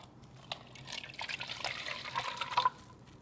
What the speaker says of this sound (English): So we're gonna add 1 cup of hot water